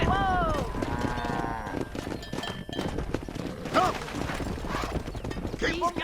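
Cattle herd being driven down a road in the Western video game Red Dead Redemption, with steady clip-clop of horse hooves, lowing cattle and game music, under intermittent talk.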